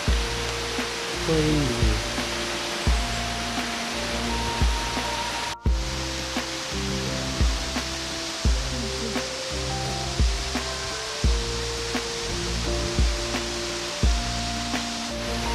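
A waterfall on a hiking trail makes a constant broad rushing hiss, with regular dull thumps recurring through it and a brief spoken word.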